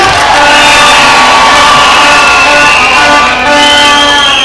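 A large crowd at a political rally in Nyayo stadium cheers and roars loudly and continuously, a dense wall of voices and whoops with no single speaker standing out.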